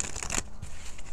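Tarot cards being shuffled by hand in a quick, close burst of riffling and papery slapping that settles into quieter handling by the end.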